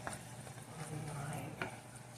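Saucy Mexican street corn being stirred in a pan, with soft scraping and wet squelching strokes, a faint sizzle underneath and a sharper clink of the utensil near the end, quiet and close.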